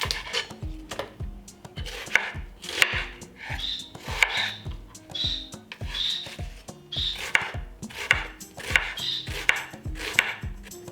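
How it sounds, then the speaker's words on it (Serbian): An onion being chopped with a knife on a board, a steady series of crisp, close knocks repeating roughly every half second, each with a short crunchy slice, and no voices. "Dok čekam da voda proključa, iseckaću jedan luk."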